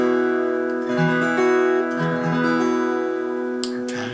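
Guitar plays the intro chord shapes of a song with sustained, ringing notes and small melodic movements within the chord, close and clear, ending with a brief scrape of fingers on the strings.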